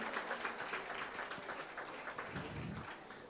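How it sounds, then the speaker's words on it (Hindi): An audience at a public event claps steadily to welcome a guest, the applause a sustained, even wash of many hands. "तोगड़िया जी का स्वागत किया जाए जोरदार तालियों से"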